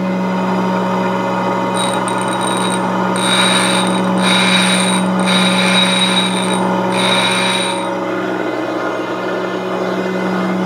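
A high-speed steel thread-cutting tool is ground on a CBN wheel. A steady motor hum runs throughout, with several brisk bursts of grinding contact in the middle and no talk.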